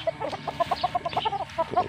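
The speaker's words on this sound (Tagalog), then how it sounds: "So, puro magaling to mga manok na to." Chickens on a rural Philippine farm cluck close by, a busy run of short, overlapping clucks with no talk.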